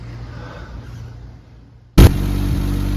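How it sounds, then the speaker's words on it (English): Quiet idling hum suddenly gives way to a 1940 Mercedes 320 barn-find engine catching and roaring loudly to life, then running steadily at a strong, rough idle. "The engine is running and sounding good."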